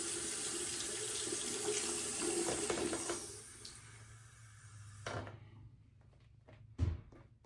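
A bathroom tap runs steadily to wet a synthetic-knot shaving brush, a close hiss and splash that stops partway through, followed by a couple of faint knocks and handling sounds.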